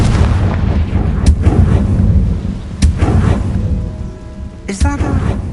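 Confringo fire spell blasts in Hogwarts Legacy, a few loud sharp bursts at irregular moments over rumbling game ambience, with a bright crackling burst near the end.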